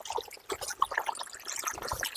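Water pours steadily out of a pipe into a farm field, a continuous splashing, trickling flow heard close up with small irregular gurgles and no speech.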